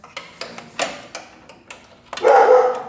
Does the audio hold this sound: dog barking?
yes